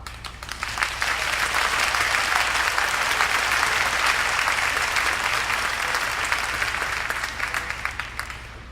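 A large audience at a high school graduation ceremony breaks into sustained applause, dense clapping that swells in within the first second, holds steady and loud, then tapers slightly at the end.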